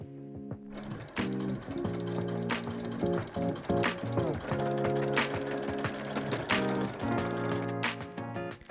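A sewing machine stitches a pocket onto a dress, running in steady bursts of fast mechanical chatter with brief pauses between runs, close and fairly loud throughout.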